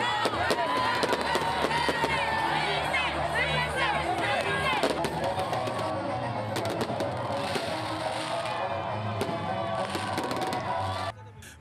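Fireworks crackle and pop repeatedly amid a noisy, cheering crowd at a New Year's midnight celebration, with sharp bursts scattered through the celebratory din before it cuts off.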